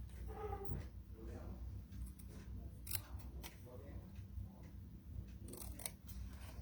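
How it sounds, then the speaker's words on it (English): Scissors snip paper along a score line for a ladybug treat craft, with several crisp close cuts scattered under quiet talk. "we're just going to cut along on opposing sides on the score line to the cross score."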